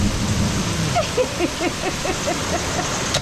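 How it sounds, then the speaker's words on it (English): Rain falls steadily on a vehicle in northern Australia, a constant dense patter close by, with a few faint chirping calls in the background. "It's nice and cool. Feel the rain."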